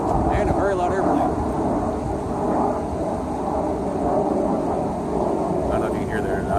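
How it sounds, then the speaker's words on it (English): Loud fighter jets passing overhead in Ecuador, a steady broadband roar with a deep rumble that holds throughout, heard outdoors with faint wind. "And a very loud airplane."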